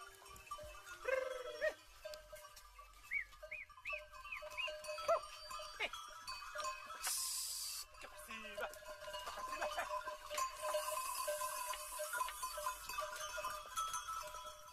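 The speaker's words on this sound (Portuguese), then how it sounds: "Agostinho Lourenço é um dos muitos produtores de gado maronês e também da cabra bravia." Maronesa cattle and bravia goats graze on hillsides in northern Portugal. Scattered goat bleats and tinkling bells sound at moderate distance over a faint outdoor hum.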